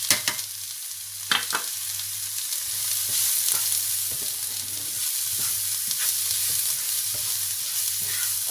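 Vegetable roll filling with potatoes, salt and spices stirred in a hot frying pan, sharp utensil scrapes and taps recurring over a continuous sizzle and a low steady hum.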